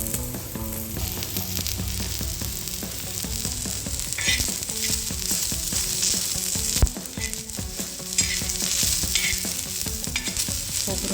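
Grated coconut and spices roasting in a hot pan, a continuous close sizzle with scraping and stirring clatter throughout and an occasional louder knock of the spoon, with no talking.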